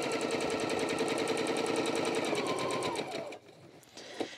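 Sewing machine stitching quilt binding with sewing cotton, a loud steady rapid needle rhythm running for about three seconds before stopping, followed by faint handling noises.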